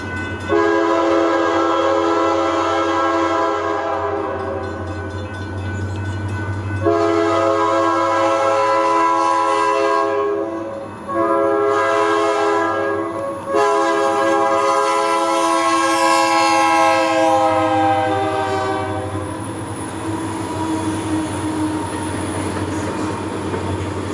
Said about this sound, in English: We made it to Tamaqua just in time to see the train rolling in.